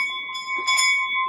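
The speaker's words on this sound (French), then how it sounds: "Écoutez le bruit de cette cloche." A bell rings steadily and clearly near at hand, sustained and ringing throughout, a school bell at the end of a children's show at a school, with no talk over it.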